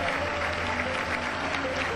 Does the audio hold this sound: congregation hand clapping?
yes